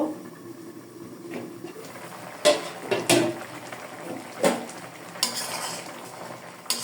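Fried fish lifted from a pan in a home kitchen, with a few sharp utensil clinks and scrapes scattered over a low background hiss, close and moderately loud.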